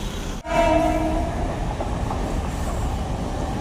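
A train passing through Belapur railway station, a sudden loud rush of wheels and carriages close by with a brief horn-like tone at the start, then a sustained rumbling roar throughout.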